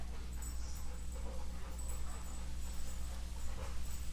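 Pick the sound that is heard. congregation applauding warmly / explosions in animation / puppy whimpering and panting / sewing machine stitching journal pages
puppy whimpering and panting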